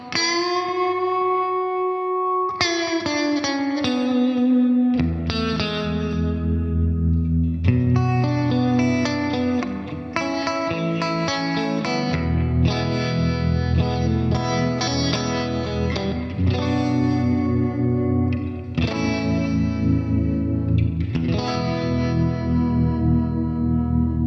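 Electric guitar played through a Fender Tone Master Pro amp modeler on a preset with large room reverb, ringing sustained chords and a melodic riff with layered effects, loud and continuous without any voices.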